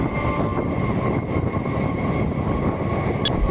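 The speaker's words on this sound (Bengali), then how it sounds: "হাওড়া থেকে 5 কিলোমিটার চলার পর আমাদের ট্রেন এখন পার করছে বেলুড় স্টেশন।" A local train from Howrah rolls past Belur station, a loud steady rumble of wheels and carriage noise filling the whole stretch without pause.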